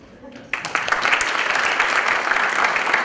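An audience at a political-discourse lecture breaks into applause after a short pause, many hands clapping loudly and continuously until the end.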